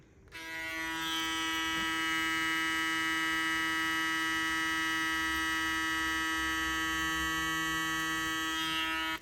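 A StyleCraft Instinct hair clipper runs continuously after switching on, giving a steady, close electric hum with a bright buzzing edge for about nine seconds and no talk.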